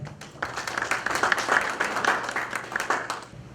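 An audience at a Korean public forum on the Guui Station subway accident breaks into sustained applause, dense steady clapping that swells and then tapers off.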